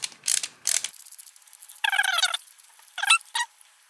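Threads being cut into the holes of a parts kit for an animated eye controller, heard as short bursts of ratcheting, scraping mechanical clicks separated by pauses, close and fairly quiet.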